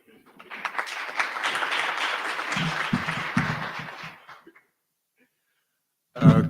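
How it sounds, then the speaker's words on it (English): An audience at a Johannesburg mayoral candidates' debate gives a moderate round of applause that builds, holds for a few seconds and fades out, followed by silence and then a voice. "Can we get a round of applause for him, please?"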